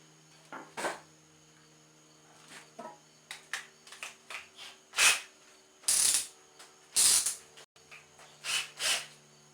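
A hand ratchet works on the shroud and muffler bolts of a Stihl SH86 C blower in a barn, giving close, quiet bursts of rapid clicking separated by short pauses.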